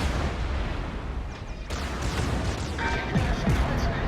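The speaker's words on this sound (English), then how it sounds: "My secondaries are going to engage this Kurfürst." Secondary guns of a World of Warships battleship engaging the enemy Kurfürst, heard as a steady rumble of distant booms and scattered firing cracks, with no clear talk.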